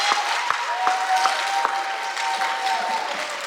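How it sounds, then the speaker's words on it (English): Graduation audience at an 8th grade ceremony claps steadily in a broad, even wash of applause, with a faint sustained tone running beneath it and no talk. "Give yourselves a quick round of applause"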